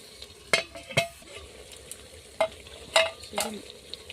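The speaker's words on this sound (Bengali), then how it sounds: "হাঁড়ির মধ্যে দিয়েই নাড়তে নাড়তে মাংসটা রান্না হবে" Chicken cooking in a handi pot gets stirred in sharp bursts, each scrape and clink of the spoon on the pot rising over a quieter sizzle, several strokes in irregular rhythm.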